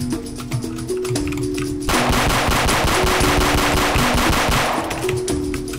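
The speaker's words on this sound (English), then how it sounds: "Oh, he's shooting." Rapid automatic gunfire from a Roblox hood game: dense, loud bursts of shots rattle continuously for several seconds, framed by softer in-game background sounds before and after.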